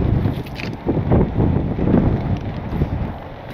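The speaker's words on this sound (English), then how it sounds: "man, that wind is nuts" Strong wind gusts buffet the microphone outdoors beside a truck being closed up, a loud, rough, continuous roar with surging bursts and no talking.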